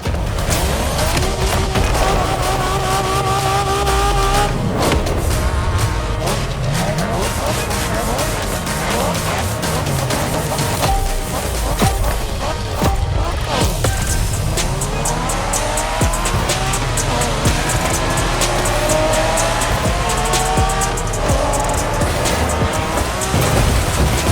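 A race car in the video game The Crew Motorfest roars continuously through Japanese street racing, with revving engine sweeps, gear changes and repeated tire squeals and skids, loud and close, with voices talking over it at times.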